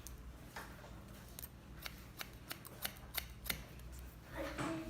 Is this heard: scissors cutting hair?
yes